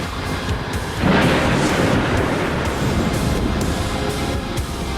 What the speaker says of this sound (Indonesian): Biar petir langit menyambar kalian semua.